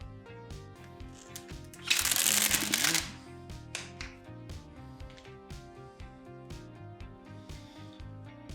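Backing being peeled from a red dbrand carbon fibre vinyl wrap on a MacBook Pro, one loud close ripping tear lasting about a second amid softer handling rustles and taps, with music playing throughout.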